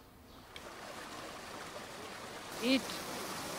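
A flowing stream of water: a faint, steady rushing wash running throughout, with a brief voice and a soft knock near the end.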